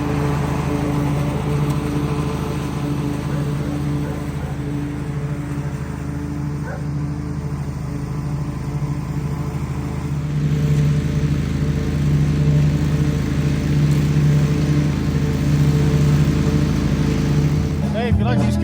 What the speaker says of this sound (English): let's go ahead and hop on this mower and see how it cuts and